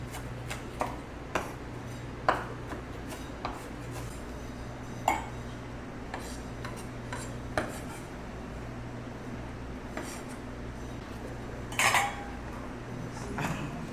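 A knife chops onions finely for turkey salad on a board, giving scattered sharp taps at an irregular, unhurried pace over a steady low background hum, with an occasional louder clink of utensils.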